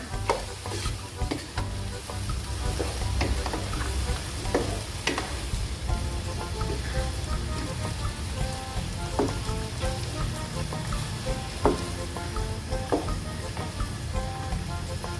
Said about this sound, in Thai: แล้วก็ตามด้วยน้ำตาลค่ะ แล้วก็ผัดไปก่อนนะคะ